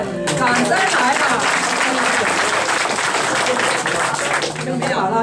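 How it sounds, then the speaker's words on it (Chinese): Loud, steady applause from an audience at a magic show, sustained for several seconds with a brief dip near the end, with voices faintly mixed into the clapping. "掌声来吧。"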